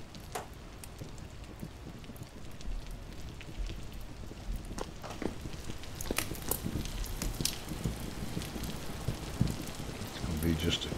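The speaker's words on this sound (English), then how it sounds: "when will it quit raining?" Rain falling in the video game Vintage Story, a steady soft patter and hiss throughout with scattered sharper drips, moderately quiet, with a voice talking now and then over it.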